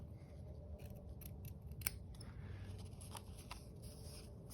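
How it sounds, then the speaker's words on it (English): Scissors snip around small pieces for a flower gnome hat, a run of soft, close cuts and scrapes at low level with faint rustling between them and no talking. "So I might cut off little pieces. And I cut around."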